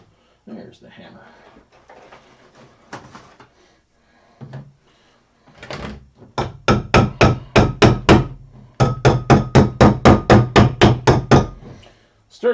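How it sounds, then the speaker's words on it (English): Hammer striking repeatedly while a pumpkin is being crafted, with bursts of quick, evenly spaced loud knocks in two long runs, following a few scattered taps and some talking at the start. "There's the hammer."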